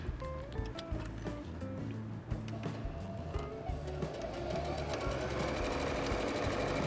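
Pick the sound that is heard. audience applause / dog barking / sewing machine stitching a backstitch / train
sewing machine stitching a backstitch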